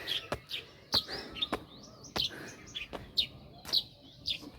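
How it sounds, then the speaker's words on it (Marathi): Birds chirp softly in the distance, a steady run of short, high tweets with a few sharp clicks mixed in. "तिकडे पक्ष्यांचा आवाज येणार"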